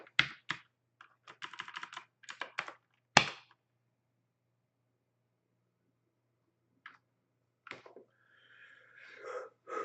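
Someone types a password on a computer keyboard: quick clusters of keystrokes, a sharp tap, then a long pause before a few more scattered clicks, quiet and close.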